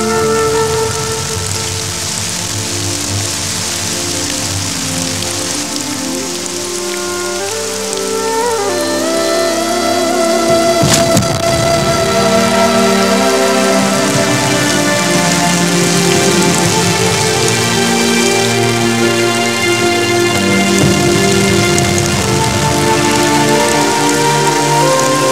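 Heavy rain pours steadily on a garden, a dense continuous hiss of drops that grows fuller midway, mixed with soft film music and no speech.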